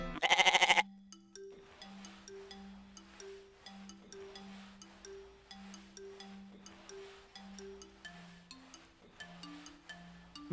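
Sheep bleat in the video game ZombFarm: one loud nasal bleat up front, then a run of softer, tonal game bleats and chimes repeating in a steady rhythm.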